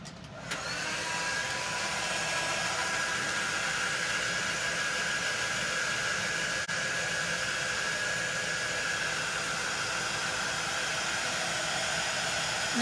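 A dryer blows over painted botanical artwork with a steady, loud whooshing roar. It starts abruptly and runs unbroken throughout, with no voices.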